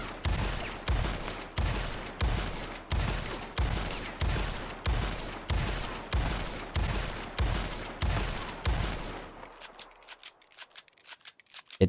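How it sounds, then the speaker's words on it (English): Repeater rifle firing in Red Dead Redemption 2, a loud, evenly spaced string of about a dozen shots with booming tails, then falling quiet into lighter clicking and mechanical handling at the end. "this you can just keep shooting for a while before it actually runs out"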